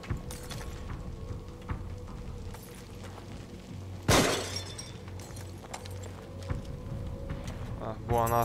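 A sharp shattering crash bursts out midway through play in the horror video game The Evil Within, standing out loudly over a steady low background rumble and brief game sounds.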